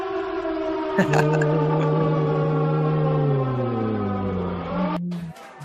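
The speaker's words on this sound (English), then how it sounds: "Let's get the sirens going" A siren wails in a long steady tone, then slowly winds downward in pitch before cutting off near the end, loud and continuous throughout.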